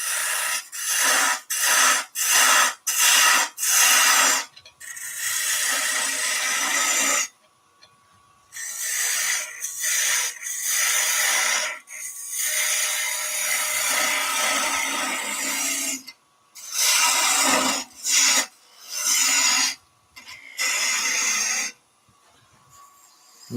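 Gouge cutting a wood blank spinning on a lathe while shaping the outside of a turned hat, heard as repeated bursts of harsh, scraping hiss with short quick passes at first, then longer cuts broken by silences.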